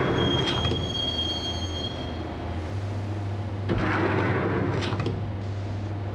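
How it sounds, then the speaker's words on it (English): A train rolls along its rails in the Max Payne video game on PS2, a loud steady rumble with shrill wheel squeals early on and a burst of clatter partway through, no speech. "the train doors had already shut behind me, and I was in for the ride"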